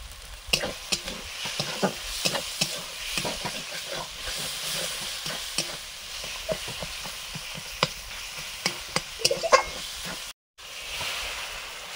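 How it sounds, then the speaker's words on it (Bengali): Spice paste with turmeric and chilli stirred and sautéed with water in a pan, a steady close sizzle and hiss broken by repeated sharp scraping strokes of the spoon, with a brief drop to silence near the end. "জল দিয়ে মশলাটা কষে নিচ্ছি।"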